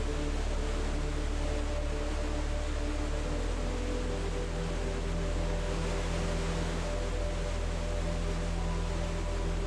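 Iguazu Falls, a chain of waterfalls stretching nearly 3 km through subtropical rainforest on the Argentina–Brazil border, sends up a dense, steady roar of falling water that holds unbroken and loud throughout.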